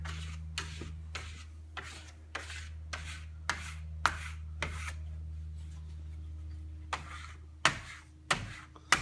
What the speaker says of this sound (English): So basically you want to burnish it while it's still wet.